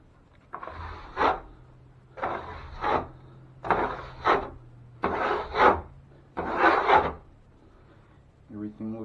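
Drywall knife scraping joint compound across a patched bathroom wall, five rhythmic rasping strokes with short pauses between them, close and clear.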